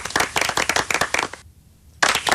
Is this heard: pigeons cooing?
no